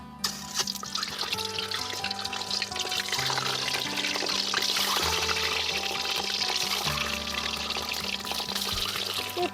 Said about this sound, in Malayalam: നമ്മൾ കഴുകി വൃത്തിയാക്കി വെച്ച മുട്ട ഇതിലിട്ട് കൊടുക്കാം